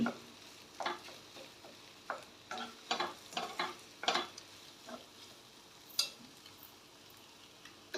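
Egg frying in a pan, a soft sizzle broken by a series of sharp scraping and stirring clicks at irregular intervals, fairly quiet overall.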